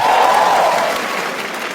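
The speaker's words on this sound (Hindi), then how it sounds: "एक बार जोरदार ताली बचा दो सबके लिए भाई" A live comedy show audience bursts into loud, dense applause, close and continuous, with a brief whooping cheer riding over the clapping early on.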